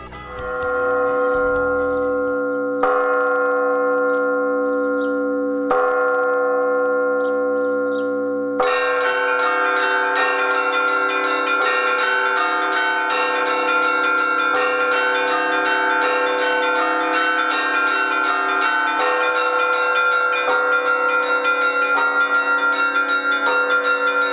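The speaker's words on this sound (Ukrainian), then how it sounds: "Тепер церковні передзвони збирають вірян на службу." Church bells ring from the belfry of a village church, a few strikes at first, then a full, continuous peal of many overlapping bells that rings on loud and sustained without speech.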